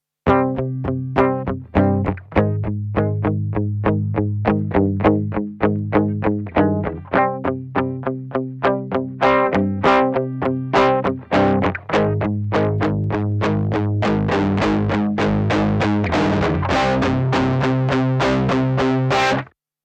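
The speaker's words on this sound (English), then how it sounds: "goes from light saturation all the way through to intense overdriven tones" Heavily distorted, overdriven music processed through a OneKnob saturation plugin, with sharp rhythmic hits and a gritty, saturated tone, plays loud and continuous throughout.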